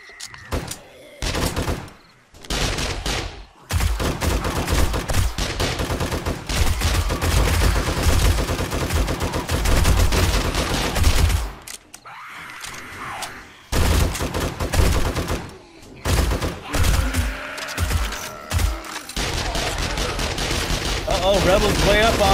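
Rapid gunfire bursts in the 7 Days to Die survival game, loud, dense and sustained across most of the stretch, broken by short gaps where shooting stops.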